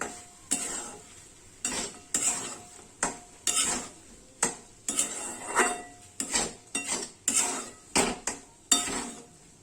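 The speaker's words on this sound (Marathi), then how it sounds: "परत एकदा हलवायचं, मिक्स करून घ्यायचं" Masale bhat (spiced rice) being stirred in a metal pot, a ladle scraping and clanking in repeated uneven strokes over a faint sizzle, close and loud.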